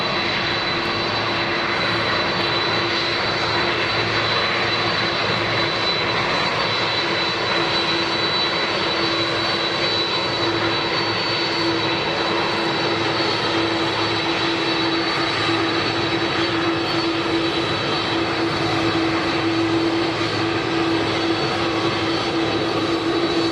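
Air Force One, the presidential jet, arriving on the tarmac in Palm Beach, Florida: a loud, steady, sustained jet engine roar with a constant whine throughout, no speech.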